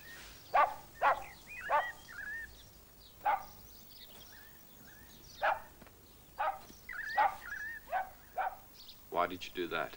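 A dog barks repeatedly, about a dozen sharp separate woofs with some yips spread through the stretch, fairly close, alongside people talking.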